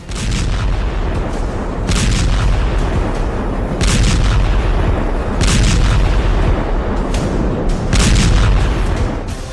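Repeated loud bomb blasts from bombing raids on Lebanon and Gaza, heavy booming bursts recurring every couple of seconds over a dense continuous rumble, with no talk.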